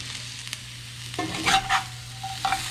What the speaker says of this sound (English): we are going to throw these into the pan with the potatoes.